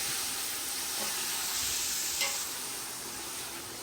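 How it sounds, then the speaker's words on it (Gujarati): Hot oil poured into Gujarati pickle masala gives a steady hissing sizzle that swells briefly midway with a bright burst, then settles into an even fizz, close and moderately loud without speech. "ઓલું જે ભેળવેલો હતો ને મસાલો ને બધો કુરિયા ને એવું એની અંદર ગરમ તેલ નાખ દે"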